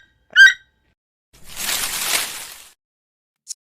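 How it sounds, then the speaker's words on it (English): A single short, squeaky toucan call in a children's animal-sounds cartoon, followed by a soft whooshing swell and a tiny high blip, otherwise silent. "Toucan."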